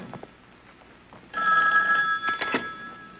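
A telephone bell rings loudly and steadily for about two seconds, cutting in after a quiet stretch of faint room sound in a dramatic indoor scene.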